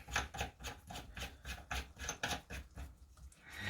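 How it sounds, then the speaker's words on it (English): Handguard turned hand tight onto a Kriss Defiance barrel nut, a rhythmic series of rasping, gritty rubs of threaded metal at close range, faint and without talk. "Slide that on and just screw it up hand tight."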